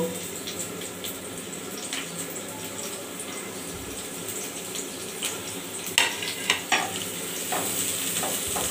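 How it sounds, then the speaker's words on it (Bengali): Chopped onion and garlic frying in oil in a frying pan, giving a steady close sizzle with occasional stirring scrapes and clicks of a utensil against the pan. "ফ্রাই প্যানের মধ্যে পেঁয়াজ কুচি আর রসুন কুচি দিয়ে দিব।"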